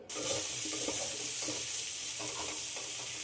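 Potatoes sauté in a pan with a soft, continuous sizzle and intermittent stirring scrapes, fairly quiet and close.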